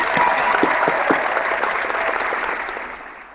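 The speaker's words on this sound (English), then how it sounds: "a round of applause to Lunar Drop and an Ice Wolf." A small group gives a round of applause during a live online show, close and lively clapping that starts at full strength and gradually tapers off over a few seconds.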